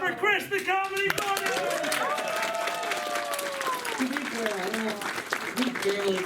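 Stand-up comedy crowd applauds comedian Chris the Comedybun, a loud sustained burst of clapping with whoops and cheers over it, fairly close and continuous throughout.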